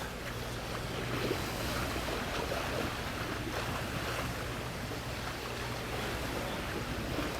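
Sea water rushes and splashes around the hull of a sailing boat on its first sail during sea trials, with a continuous broadband wash and wind buffeting, steady and close throughout without talking.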